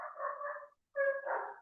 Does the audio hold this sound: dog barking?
yes